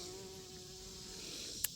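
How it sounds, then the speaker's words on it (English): A bumblebee buzzes steadily around green bean flowers in a summer garden, a faint, continuous droning hum with no talking. "Little bumblebee."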